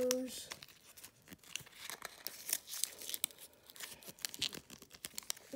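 A Panini Football 2020 sticker packet is torn open by hand. Close, quiet crinkling and ripping of foil comes in irregular bursts, and a voice speaks briefly at the start.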